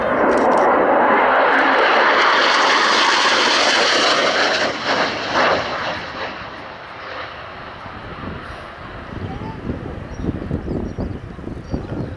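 Spanish Navy AV-8 Harrier jet making a flying display at RIAT: a loud, broad jet roar swells and peaks as the aircraft passes close, then fades into a more distant rumbling hiss with some wind on the microphone.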